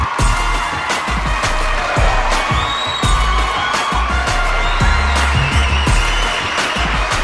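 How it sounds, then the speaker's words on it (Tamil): A large audience cheers, whistles and claps loudly and continuously to welcome the rock star Anirudh on stage, with shouts and whoops rising from the dense crowd throughout. "உங்களுடைய கைத்தட்டல் விசிலோட அவரை வெல்கம் பண்ண போறோம்."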